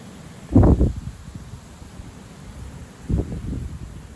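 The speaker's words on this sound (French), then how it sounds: "Ambiance rafaleuse, neigeuse." Two strong gusts of snowstorm wind buffet the microphone, one near the start and another later, with quiet low rumbling in between.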